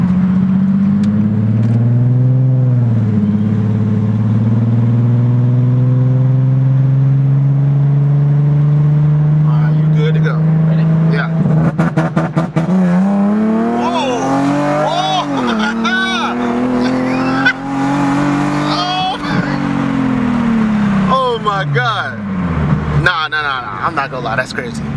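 Infiniti G37 with a pop tune revving and accelerating hard, engine pitch climbing steadily then dropping with crackling anti-lag pops near the end; loud and close, with people talking over it throughout.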